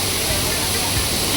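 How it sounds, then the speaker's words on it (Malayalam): Artificial waterfall at a cafe in Thailand, a steady, dense roar of falling water heard from very close, loud and unchanging for the whole moment. "ആർട്ടിഫിഷ്യൽ വെള്ളച്ചാട്ടത്തിൻ്റെ ഉള്ളിലൊക്കെയാണ്"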